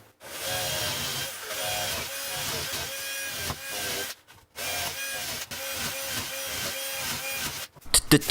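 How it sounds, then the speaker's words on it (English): A power drill whirs into a wooden nightlamp frame in repeated short bursts, separated by brief pauses, with a buzzing, grinding tone close by. "Now I'm going to drill more holes everywhere."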